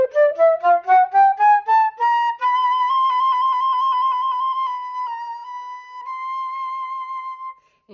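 A steel pan, a Donjon, plays a rapid rising run of bright, bell-like notes that settles into a sustained, shimmering B-to-C trill, solo and close, fading out at the end.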